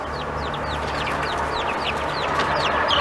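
Young two-week-old chicks peep in quick rising chirps around their coop, with soft clucking from chickens mixed in over a steady low background hum, close and continuous throughout.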